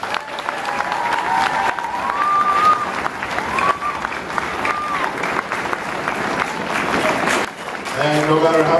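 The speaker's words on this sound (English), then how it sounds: "So let's give her a round of applause." Audience applause at a school orchestra concert, a steady wash of clapping with some cheering, sustained throughout with faint tones and voices mixed in.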